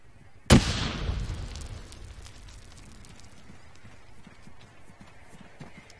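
A single loud, close grenade blast in Arma 3, a sharp bang followed by a long rumbling decay that fades into quiet background noise.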